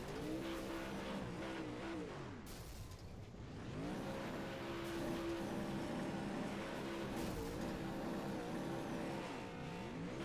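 A race car engine in the iRacing video game at Lime Rock Park drones steadily and close, its pitch rising and falling through gear changes and corners, with brief tire squeal and no talk.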